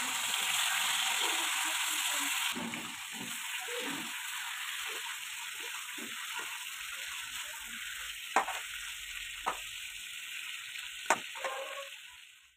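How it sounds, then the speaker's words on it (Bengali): Goat meat frying with turmeric and salt in a wok in a village kitchen in Assam: a broad, steady hiss of sizzling oil, loudest at the start and then softer, broken by several sharp spatters and stirring knocks. "তো এখানে আমার সব মাংস ভাজা হয়ে গেছে"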